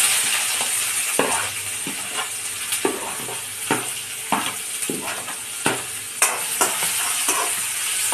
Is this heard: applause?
no